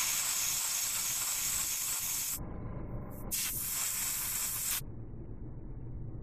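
An airbrush sprays paint onto a Necron Wraith miniature, a steady close hiss that cuts out abruptly twice, then resumes before stopping, leaving a quieter background hum.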